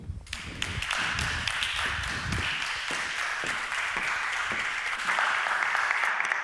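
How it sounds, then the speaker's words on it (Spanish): An audience at a session on entrepreneurship in classical music gives a speaker a sustained round of applause, a steady, fairly distant wash of many hands clapping with a few sharper claps near the start. "un fortísimo aplauso para ella"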